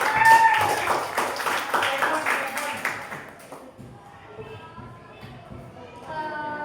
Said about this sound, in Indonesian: Mari kita beri tepuk tangan untuk diri kita sendiri